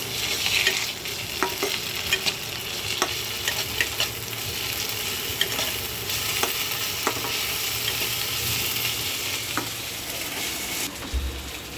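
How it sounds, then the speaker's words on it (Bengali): Ginger, garlic and cumin paste fries with onions in a pan, giving a steady sizzle with scattered clicks of stirring and scraping, close and even throughout, with no talking. "পেঁয়াজটা ভাজা ভাজা হয়ে এসছে, এবারে দেব আদা রসুন আর জিরের পেস্ট।"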